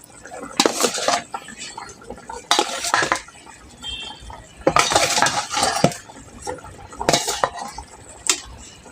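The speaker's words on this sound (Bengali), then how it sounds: "এখন আমি ভেজে রাখা মাছগুলোকে দিয়ে দেবো" Fried fish pieces are added to a simmering Bengali fish curry and stirred, with several loud bursts of ladle scraping and clinking against the pot and quieter bubbling in between.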